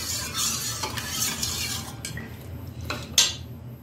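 A spoon stirring homemade buttermilk in a pot, giving close scraping swirls and metallic clinks against the sides, ending on one sharp clink.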